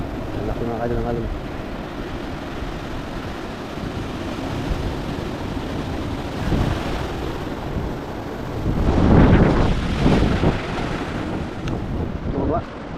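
Large ocean waves crash and surge along a shoreline at low tide, a loud rushing wash that builds to a heavier roar partway through, with wind buffeting the microphone and people talking nearby.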